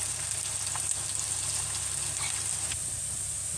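Large pieces of garlic fry in a pan for pumpkin chana dal, giving a close, continuous sizzle with fine crackling and no talking.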